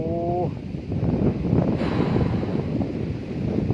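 Strong wind buffeting the microphone outdoors near a field hut by a fish pond in rural Thailand, a loud continuous roar and rumble throughout.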